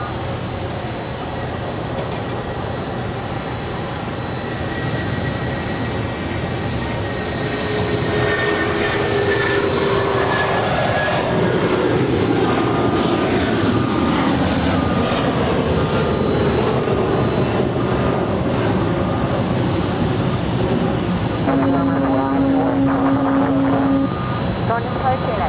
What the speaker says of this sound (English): Taking off there on 25 right was United Airlines Flight 1029 heading to Denver.